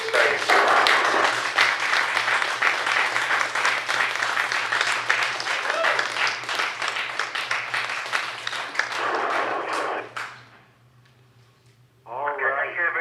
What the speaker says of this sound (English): Maybe just give a round of applause for us